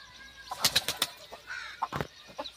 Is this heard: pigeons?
yes